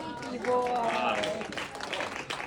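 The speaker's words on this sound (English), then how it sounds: "I expect that applause to go a little bit longer" A modest audience claps after a keynote speech at a business networking meeting, a fairly quiet, short round of applause mixed with a voice speaking over it.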